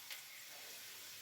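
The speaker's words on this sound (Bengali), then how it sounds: "আলু যেখানে ভাজা হয়েছে লাল লাল, ওখানেই বাঁধাকপিগুলো ছেড়ে দেওয়া হচ্ছে" Cabbage dropped into hot oil over fried potatoes gives a soft, steady sizzle, fairly faint and even, with a couple of brief brighter spurts of hiss.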